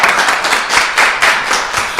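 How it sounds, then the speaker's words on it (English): A restaurant-kitchen audience claps together in a steady, dense round of applause, close and loud, with individual hand claps rippling through the wash of sound and no voices over it. "I feel like we can give C&B a round of applause for this beautiful kitchen."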